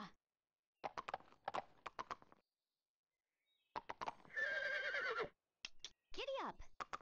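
Barbie Horse Adventures game audio with a horse's clip-clop hoofbeats in short bursts and a loud whinny near the middle, a second neigh soon after, with speech-like gaps between.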